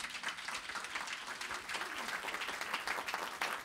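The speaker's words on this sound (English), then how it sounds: "can we all give them a round of applause?" Warm applause from a crowd at an event on childcare, rising and falling in dense waves with a few cheers and voices mixed in.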